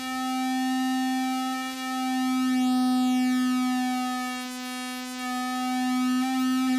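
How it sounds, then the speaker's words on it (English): A steady synthesizer tone with a sawtooth-like waveform and a rich stack of harmonics above the fundamental holds one pitch for several seconds, loud and sustained, with a faint sweeping shimmer up high partway through. "rich harmonic content, pretty much every harmonic on top of the fundamental, which is the definition of Sawtooth"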